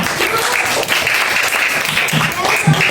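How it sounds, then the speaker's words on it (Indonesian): Classroom applause for a student group after a science presentation, brisk and continuous claps throughout from many pupils nearby, with children's voices mixed in. "beri tepuk tangan untuk kelompok nomor 2"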